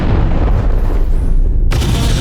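An explosion destroys a target in the MechWarrior 5 video game, a loud, dense rumbling blast that fills the whole clip with low booming energy, and a fresh burst hits near the end.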